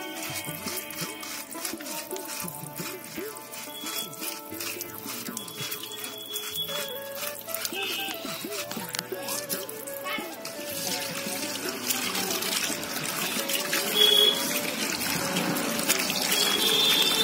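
A coconut shell gets washed under a running tap at an outdoor garden picnic, water splashing and trickling steadily, growing louder and fuller toward the end, with occasional clinks and drips.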